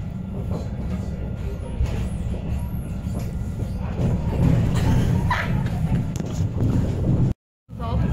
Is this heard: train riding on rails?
yes